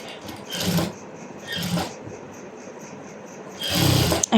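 A sewing machine stitching a blouse side seam, running in short close bursts of whirring stitches separated by quieter pauses, with no talking.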